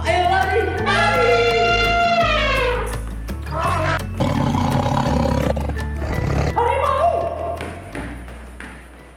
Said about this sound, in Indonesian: Ada gajah.